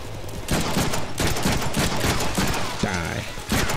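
Gunfire from the Deadpool video game on PS3: dense, rapid bursts of shots crackle close and loud for several seconds, with voices talking over the shooting.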